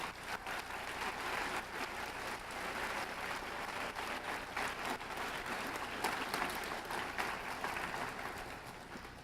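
A large audience at a national high school science competition applauds its volunteers, a dense, continuous wash of many hands clapping at once, fairly distant and steady for several seconds with no voices.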